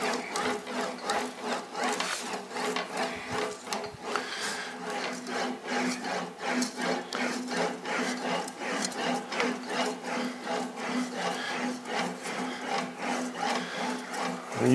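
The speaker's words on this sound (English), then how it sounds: "We're going to wheel this panel up a little bit" English wheel rolling back and forth over a long sheet metal sail panel for a 1956 Chrysler Windsor chop top, using a fairly flat anvil, giving a steady rhythmic rubbing, rasping pass repeated close by.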